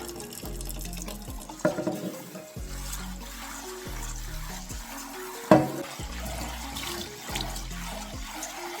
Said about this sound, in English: So as you can see, I'm washing the rice very thoroughly.